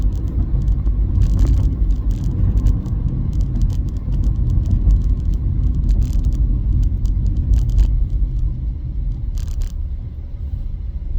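A car idles with a steady low rumble, its engine heard up close from inside while it stands stopped in the middle of the road, with faint scrapes and clicks over the hum and no talk.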